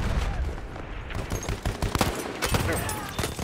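Pistol gunfire in the Battlefield 1 video game: a rapid string of sharp shots and cracks mixed with other battlefield noise, fairly loud across the short stretch.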